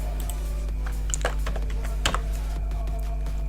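Someone types a short word on a computer keyboard into a software search box, a quick burst of close, crisp key clicks over a steady background hum.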